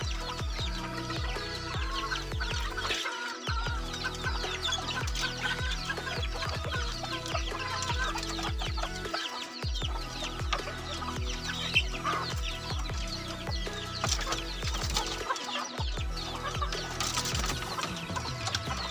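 Chickens kept in cages cluck and squawk continuously, a dense, fairly close chorus of overlapping fowl calls with no talk.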